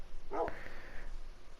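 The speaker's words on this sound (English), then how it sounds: "There's Hondo the dog right there." Hondo the dog gives one brief, quiet bark, and a fainter yip follows close after, set against a low steady background.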